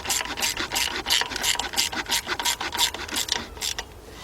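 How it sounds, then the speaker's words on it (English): Small bolt being tightened on the plastic shield of a 2004 Chevy Monte Carlo 3.4 engine, with quick repeated rasping ratchet strokes in a steady rhythm, close and moderately loud, no talk. "let's tighten up this bolt"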